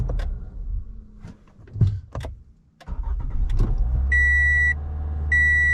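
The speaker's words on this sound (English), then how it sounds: "So I'm gonna shut the car off and I'll restart it a couple times." A warm Toyota Camry with a low-idle stall fault is shut off and restarted, the starter cranking into a steady engine idle that settles high and loud, with a door-ajar chime beeping in repeated bursts near the end.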